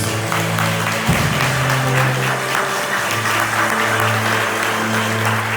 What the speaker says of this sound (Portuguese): Aplaude bem forte a Deus.